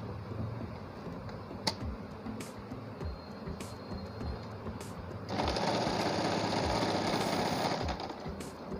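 A Janome J 639 sewing machine whirs in a fast, even mechanical buzz with a few sharp clicks early on, then jumps to a louder, denser high-speed drone for the last few seconds. Nobody speaks.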